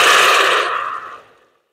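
1.5 litres of water poured into a soup pot for Tom Yum soup, a steady splashing gush about a second long that tapers off and stops.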